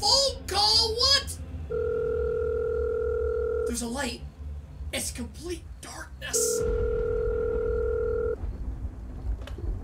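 Telephone call tones in the video game Wario's Return to the Factory 2, two long steady ringback tones separated by a pause, with a child-like voice and other talk in the gaps between them.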